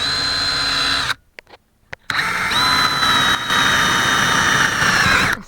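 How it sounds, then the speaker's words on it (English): Power drill boring into wood with an 8mm bit, a loud steady whine broken by a short pause, then a long continuous run with a rising squealing tone. "Right now I will drill with 8mm"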